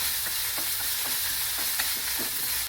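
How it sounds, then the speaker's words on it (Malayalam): Onion, ginger and garlic sautéing in a pan over a low flame, a steady soft sizzle broken by a few faint scrapes of a stirring spoon, close and continuous with no talk. "സവാള ഇഞ്ചി വെളുത്തുള്ളി ഇതൊന്ന് കുറച്ച് വഴങ്ങി വെക്കാം"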